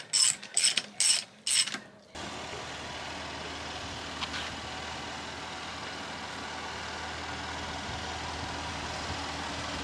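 A ratchet tightens the wheel lug nuts on a Jaguar F-Type R, with four quick, loud bursts of clicking close by, then a steady mechanical hum carries on alone.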